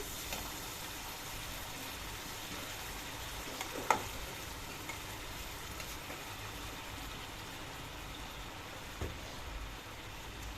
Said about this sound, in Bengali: দইটাকে ঢালার পর আরেকটু নাড়িয়ে নিচ্ছি।